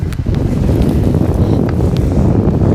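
Strong wind buffets the microphone on a lake while fishing from a boat, a loud continuous rumbling roar with gusty swells and no voices.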